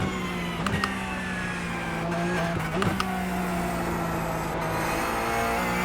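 Race car in a sim racing game, its engine holding a steady high drone at speed with a couple of brief shifts in pitch, joined by faint tire noise, close and continuous with no talking.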